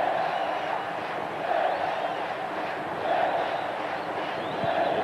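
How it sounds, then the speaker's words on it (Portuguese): Football stadium crowd at the 1994 Copa Libertadores match between Cruzeiro and Boca Juniors, a steady dense roar of fans cheering with gentle swells, far-off and continuous. "A torcida continua dando força."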